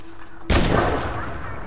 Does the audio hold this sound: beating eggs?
no